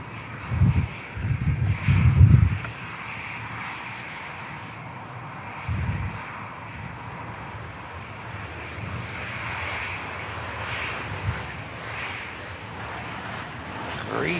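A Ryanair airliner on final approach into Manchester Airport on a gusty day: a steady, distant broadband roar runs throughout, with heavy low wind buffeting on the microphone in the first few seconds and again briefly later.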